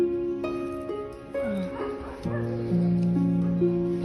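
A very old, thin female dog with maggot-infested wounds whimpers and yips in a string of high, wavering whines, close and fairly loud, with brief pauses between cries.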